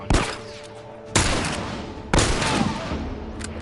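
Three loud, sharp gunshots from The Last of Us on PS4, spaced about a second apart, each a broadband blast with a long ringing tail, over a low steady game ambience.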